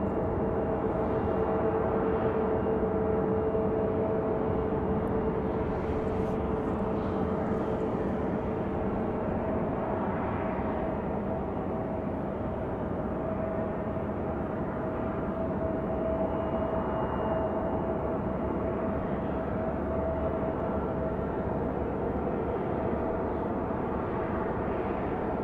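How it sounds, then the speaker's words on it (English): A NetJets Embraer Phenom business jet on final approach to Raleigh Durham airport gives off a continuous broad engine rush with a faint tonal whine, steady and moderately distant throughout, with no voices. "Got an exec jet here on final."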